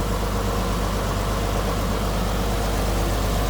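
The inline six engine of a 1929 Chevrolet Landau Convertible idles steadily up close, a constant loud rumble with an even low throb and no changes in speed.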